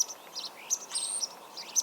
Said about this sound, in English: starlings are small black birds with white spots, but their feathers are actually multicoloured